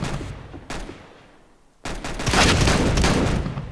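Bursts of automatic gunfire in a Roblox Counter-Strike match: a short burst, a brief lull, then a louder, sustained rattle of shots close by.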